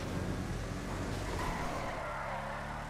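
Muscle car in GTA Online roaring with tyres skidding, a loud, broad engine rush and scrubbing slide that eases slightly toward the end.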